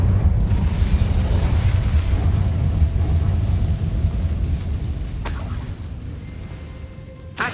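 Fiery blast from the Incendio spell in Hogwarts Legacy, a loud continuous low roar with crackling bursts that slowly fades, ending in a sharp impact at the close.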